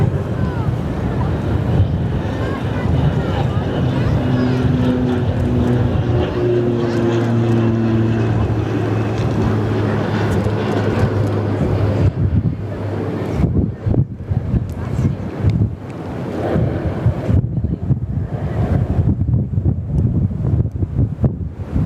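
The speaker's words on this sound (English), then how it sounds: "Here's a Beach 1900, very nice." A Beechcraft 1900 turboprop passes at Perth Airport, a steady loud engine roar with wind buffeting the microphone, sustained droning tones before the sound breaks up and fades into gusty noise.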